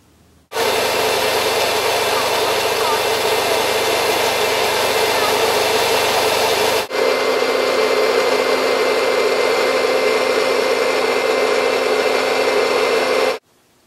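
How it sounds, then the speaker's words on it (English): A motorized DIY cable lift hauls building materials uphill, a loud, steady engine drone running for about thirteen seconds with one brief dip midway before it cuts off. "With the new motorized system, we can pull up a lot more materials and save our back for building."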